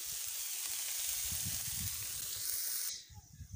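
Shrimp frying in hot oil in a pan on an earthen wood-fired stove at an outdoor garden house, cooked for a bottle gourd and shrimp dish. A loud, steady sizzle holds for about three seconds, then cuts off abruptly, leaving faint background sounds.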